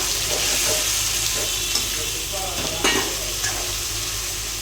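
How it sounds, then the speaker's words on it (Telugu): Chicken dropped into a pan of fried ginger-garlic, tomato and spice masala, sizzling steadily with clattering stirring strokes and a few sharper hits of the spatula. "ఇటువంటి మసాలాలన్నీ ఫ్రై అయిపోయి ఇప్పుడైతే చికెన్ వేస్తున్నా"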